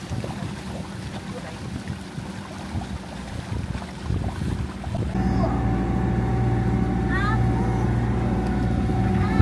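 A sailing catamaran motors along at sea off Thailand, a steady engine drone with rushing wind and water, growing louder and more even partway through; a voice speaks over it briefly.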